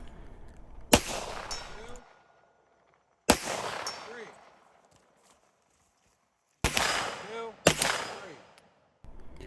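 Bursts of 9mm gunfire from a 3D-printed DB Alloy Mac-11 at the Moonshine Brutality 2024 shooting match, with five loud, sharp volleys separated by pauses, each ringing out and fading across an outdoor range.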